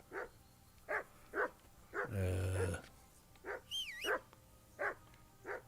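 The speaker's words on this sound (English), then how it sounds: "Jesus, Henry, that barking's driving me nuts." A dog barks repeatedly in a steady, close series of sharp barks. Other game-like electronic sounds come in between the barks.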